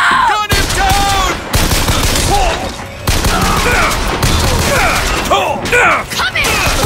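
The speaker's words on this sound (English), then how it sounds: "Gun him down!" Gunfire in BioShock Infinite, dense rapid shots and mechanical clatter running almost continuously, with shouting voices mixed through the chaotic combat.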